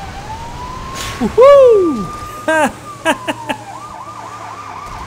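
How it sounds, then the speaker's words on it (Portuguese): Police car siren in the Lego City Undercover video game, a rising and falling wail with short repeated whoops, heard between bursts of a man's excited speech. "Vou ligar a sirene."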